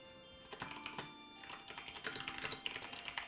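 Rapid typing on a computer keyboard, close and alone: uneven bursts of crisp plastic key clicks and taps that keep going for a few seconds with short pauses between them.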